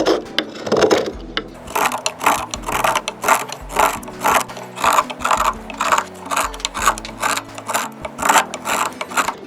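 A wooden spoon is carved by hand, the blade taking a steady run of short, rhythmic scraping cuts from the outer side of the wood, close and clear, with no talking.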